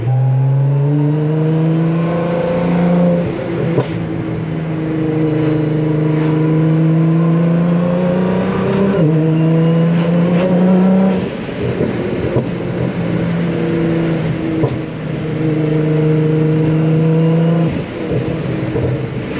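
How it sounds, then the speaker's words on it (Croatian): Nissan GT-R engine revving loudly close by, a deep droning exhaust note that climbs in several sustained pulls, each cut off abruptly before rising again, with a crackle between revs. "Slab zvuk na ovom GTR-u."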